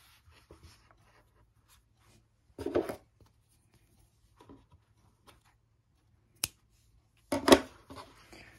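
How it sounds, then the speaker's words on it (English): Scissors cut through fragile cotton yarn in a quiet room: a couple of short, soft snips separated by near silence. "Now I'm gonna cut my yarn"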